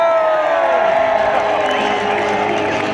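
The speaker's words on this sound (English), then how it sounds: "At this height, the jumpers under canopy can definitely hear encouragement from the crowd" A crowd at a military parade cheers and whoops encouragement, a steady wash of voices at moderate distance, with a few whistles and raised calls above the sustained din.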